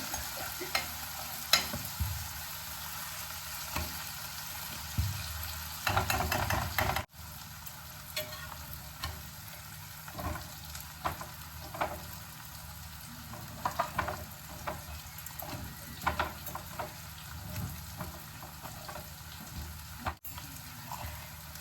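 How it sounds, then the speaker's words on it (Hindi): Vegetable curry frying and sizzling in a pan, a quiet, steady crackle with intermittent stirring scrapes and a louder burst midway, with no talking. "रवि सब्जी बना रहा है"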